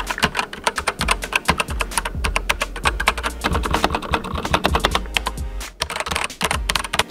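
Steady, rapid clacking of a Keychron K8 mechanical keyboard with tactile brown switches typed on up close, soft tactile thocks in a continuous flowing rhythm with brief pauses.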